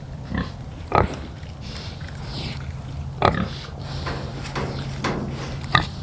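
Pigs in a pen shuffle and grunt, giving several sharp knocks and snorts at irregular intervals over a low, steady background hum, close and fairly quiet.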